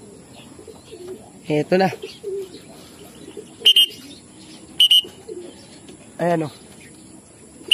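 Pigeons gathering around a loft give a few short bursts of calls and coos, fairly close, separated by quiet stretches, with a person talking softly in between.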